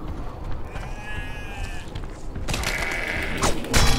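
Sheep bleat in the video game Overlord: Raising Hell, with a wavering bleat early on and a louder burst of bleating later, set over busy game ambience and rumbling.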